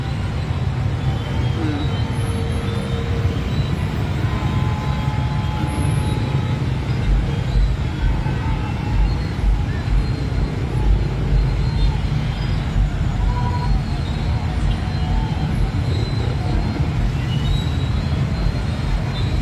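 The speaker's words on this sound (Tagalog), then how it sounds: "Grabe ang traffic." Heavy, rain-soaked traffic along Marcos Highway in the Philippines, a continuous close rumble of engines and tires with occasional squeals, sustained and fairly loud.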